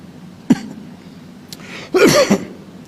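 Someone speaking at a live public address gives a short dry cough, then a longer, rougher throat clearing a moment later, both close and fairly loud against a quiet room.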